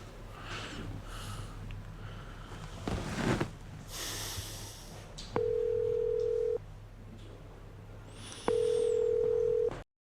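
A telephone call goes unanswered, two long steady ringback tones sounding a few seconds apart over a quiet room with faint breathing and sniffing.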